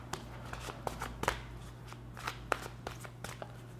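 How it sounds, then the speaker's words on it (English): Tarot cards are shuffled and drawn in a quiet room, giving a steady run of soft riffling flicks and crisp snaps at close range over a low background hum. "I'm going to pull some high-level advice and guidance cards"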